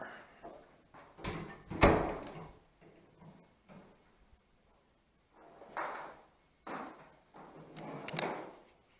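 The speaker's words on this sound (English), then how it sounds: "I'm going to shut this bathroom door." A bathroom door is handled and pushed shut nearby, with a sharp bang early on followed by softer thumps and rattles amid quiet pauses.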